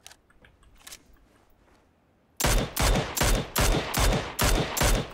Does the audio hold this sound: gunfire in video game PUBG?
yes